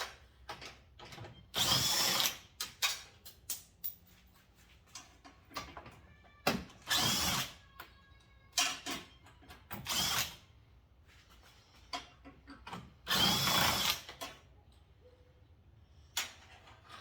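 Bolts coming out of a 2014 Silverado truck bumper under a power tool, in repeated short whirring bursts of a second or so with quiet gaps between, close and fairly loud, with no talking.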